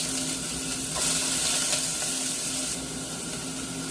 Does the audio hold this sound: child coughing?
no